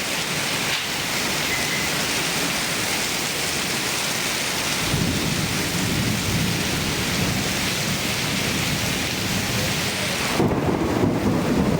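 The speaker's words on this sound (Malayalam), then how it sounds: "പ്രതീക്ഷിക്കാതെ എത്തിയ മഴയിൽ നഗരം നനഞ്ഞു" Heavy rain pours over a city at midday, a dense steady hiss of drops on surfaces with deep rumbles of thunder rolling underneath, loud and continuous with no speech.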